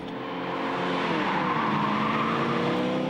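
Two cars street racing head-to-head on a public road at night, with steady, loud engine roar and rising harmonic whine sustained throughout, no voices.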